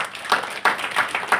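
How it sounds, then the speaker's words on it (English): An audience claps in short scattered bursts, a few quick uneven rounds of hand claps at moderate volume with no voices on top. "give a clap to yourselves"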